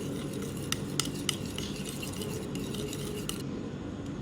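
A spoon stirs masala and orange food colour into a yogurt mixture for chicken biryani, giving soft scraping and a few light clinks against the bowl over a steady quiet background.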